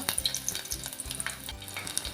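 Four garlic cloves and a large slit chili sizzling and frying in hot oil, a steady crackling hiss with occasional stirring clatter, close and fairly quiet.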